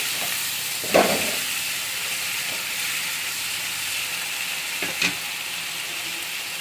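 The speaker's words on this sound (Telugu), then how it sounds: "ఈ టమాటోస్ వేసేద్దాము. వేసి మంచిగా ఇలాగా కలియపెట్టి" Tomatoes sizzle in a hot pan as they are stirred in, giving a steady, bright frying hiss with a few sharp clacks of a utensil against the pan.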